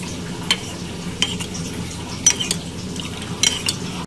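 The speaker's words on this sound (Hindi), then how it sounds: "मैंने यहाँ पे 2 नींबू का रस लिया है और इसमें थोड़ा सा हम फूड कलर मिलाएंगे 1 पिंच, और अच्छे से इसको बिल्कुल मिक्स कर लेंगे" A spoon stirs food colouring into fresh lemon juice for beef yakhni pulao, with sharp clinks against the bowl at irregular intervals over a soft, steady background hiss.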